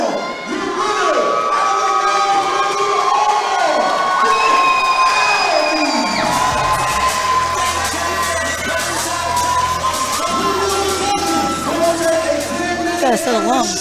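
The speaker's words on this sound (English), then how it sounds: "There's this cheering section right there behind us" Crowd at an MMA fight night roaring and cheering right after a first-round win, loud sustained shouting and whooping with excited voices and a few yells rising over the din.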